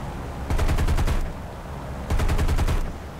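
Aircraft machine guns fire in War Thunder in two loud, rapid bursts of about a second each, separated by a short pause under steady engine drone.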